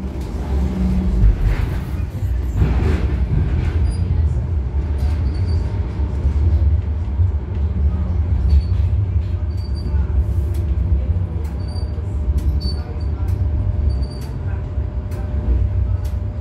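Interior of a Sheffield tram, a continuous low rumble of wheels and motor with rattles and faint squeals, steady throughout, heard up close from inside the car.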